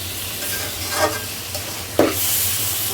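Steady sizzling of goat liver stir-frying in a wok, with a couple of scraping stirs, continuous hiss close by, no voices.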